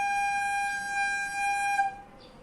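Recorder playing the note sol, thumb hole and three top holes covered, holds one bright, steady tone for about two seconds before breaking off, with faint room noise underneath.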